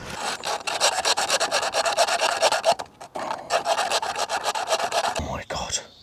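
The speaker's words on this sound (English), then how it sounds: "Let's try a bit of sandpaper." Sandpaper is rubbed by hand against a metal strip on a trailer part, giving a steady rhythmic rasping of quick back-and-forth strokes, close and loud, with a brief pause midway.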